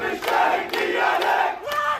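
An angry crowd chanting and shouting together in bursts, loud and fairly close, at a gathering escorting the bodies of three Palestinians near Ramallah.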